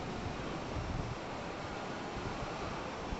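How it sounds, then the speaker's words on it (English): Strong wind at 40 gusting to 60 blows steadily on a minus 20 Celsius winter day outdoors near a tall tree, a loud continuous roar with slight surges and no voices. "And right now the winds are blowing at about 40, gusting to 60"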